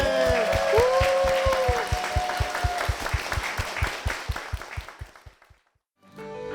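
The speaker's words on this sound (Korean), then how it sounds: "주님께 영광의 박수를 드리겠습니다." A church congregation claps in a steady rhythmic beat alongside a fading sung or musical tone, the claps gradually thinning and softening before a brief silence and a new sound at the very end.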